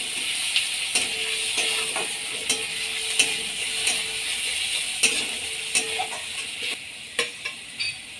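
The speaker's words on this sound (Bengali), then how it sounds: "এবার ভালো করে রসুন আর পেঁয়াজটাকে ভেজে নিতে হবে।" Garlic and onion frying in a pan, a steady bright sizzle with a spoon or spatula scraping and clicking against the pan in irregular strokes, close and fairly loud, no voices.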